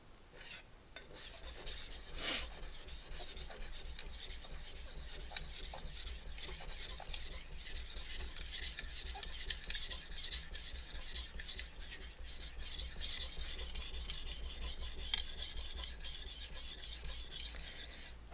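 A short utility knife is drawn back and forth across a Shapton Glass whetstone, a close, steady rasping scrape in continuous repeated strokes with no talking.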